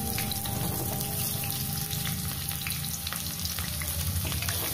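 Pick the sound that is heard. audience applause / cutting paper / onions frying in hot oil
onions frying in hot oil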